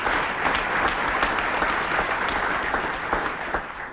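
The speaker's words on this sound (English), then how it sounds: "Give him a round of applause." A large audience at a governor's broadband announcement event claps continuously, a full, steady roar of applause that holds loud for several seconds before easing slightly toward the end.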